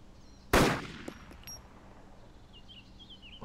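A single loud KSVK sniper rifle shot in a video game, fired at a target over 1100 m away at Novy, a sharp crack with a decaying tail, followed by faint bird chirps in the background.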